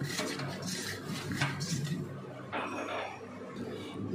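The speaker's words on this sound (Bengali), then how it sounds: "আমি আগে হাঁড়িতে একটু ঘি মাখিয়ে নেব।" Ghee is rubbed around the inside of a cooking pot before mutton biryani goes in, a close, continuous scraping and rubbing with a brief clink of metal.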